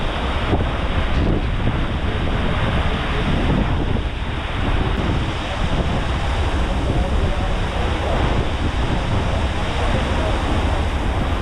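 Heavy waves wash and crash against a boat sailing Lake Victoria at night in rain, a loud, constant roar of water mixed with strong wind buffeting the microphone.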